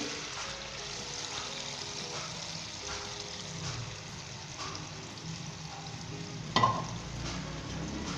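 Beaten eggs for anda ghotala added to a hot pan, a steady broad sizzle and frying crackle with soft scraping, one sharper clatter near the end, close and moderate in level, no talking.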